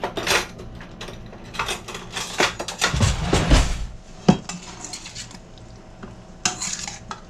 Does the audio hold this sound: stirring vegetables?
yes